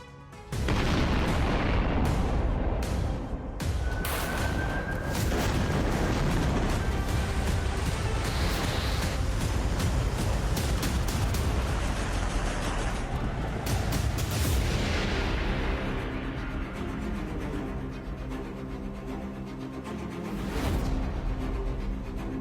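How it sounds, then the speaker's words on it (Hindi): Explosions and missile blasts from the Russia–Ukraine war, a dense, loud stretch of booming detonations and sharp cracks that roll on almost without a pause. "धमाकों का शोर, मिसाइलों का जोर"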